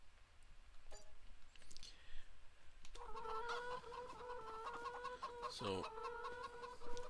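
Chickens clucking inside a coop in the Farming Simulator game, a busy flock cackling in steady overlapping calls at close range, with one brief spoken word early on.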